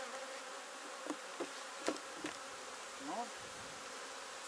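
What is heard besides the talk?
honeybees at hive while removing honey supers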